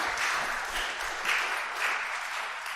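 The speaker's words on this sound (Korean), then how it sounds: "우리 다시 한번 박수합시다." Church congregation clapping together at a Sunday Thanksgiving worship service, a full, steady round of applause that swells slightly mid-way with no talking over it.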